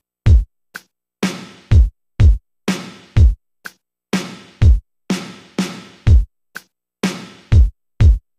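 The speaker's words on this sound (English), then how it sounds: "I have a pattern of a kick and 1 snare that sounds like this." Dry kick and snare drum pattern in 3/4 time with an offbeat feel: punchy, close hits alternating in a steady repeating rhythm separated by short silences.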